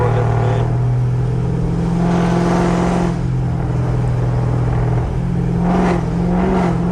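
A second-generation Dodge Charger with a swapped-in 392 Hemi V8 rumbles loudly and steadily from inside the cabin during a late-night drive, its engine note swelling and dipping with throttle.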